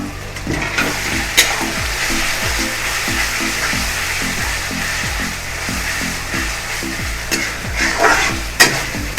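Hybrid tomatoes sizzle and fry in a pan, a continuous loud hiss with occasional stirring scrapes and sharp pops, a low repeating tonal pattern underneath.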